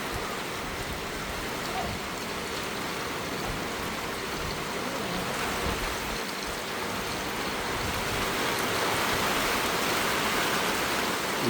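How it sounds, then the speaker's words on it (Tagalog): Heavy rain falls steadily as a dense, continuous wash of noise that swells slightly toward the end. There is no talking. "Video natin yung ulan."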